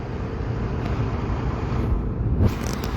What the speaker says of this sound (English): just a lot of traffic.